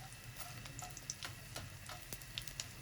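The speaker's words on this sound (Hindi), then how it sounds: "थोड़ी थोड़ी करके डालेंगे, उससे हमारी गोंद अच्छी फ्राई होगी" Edible gum (gond) frying in ghee crackles faintly with small, irregular pops and ticks over a quiet, steady sizzle.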